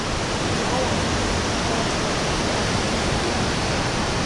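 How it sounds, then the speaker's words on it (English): A steady, dense roar of rushing water from a waterfall at Fonts de l'Algar on the Costa Blanca fills the whole stretch, constant and loud with no breaks. "that's the first waterfall you see as you come in through the entrance there"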